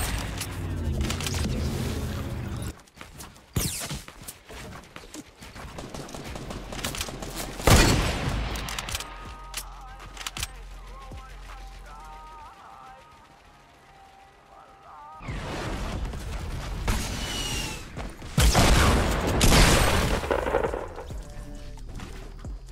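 Gunfire and explosive blasts in Fortnite come in heavy, chaotic bursts, with a quieter stretch of scattered game sounds in between before another loud flurry; a player's voice is heard among the shots.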